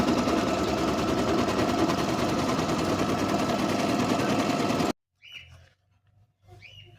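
A sewing machine stitches fabric with a fast, loud, steady mechanical rattle for about five seconds, then stops. Quiet speech follows the stop.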